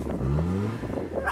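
A small Holden Barina's engine revving while the car is stuck and being pushed, a steady rising engine drone heard up close for a brief moment.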